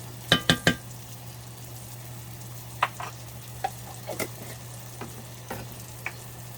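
Beef or chicken base being stirred into a smooth gravy in a pan, with a burst of three quick metallic clinks early on, then sparse spoon taps and scrapes over a quiet low hum.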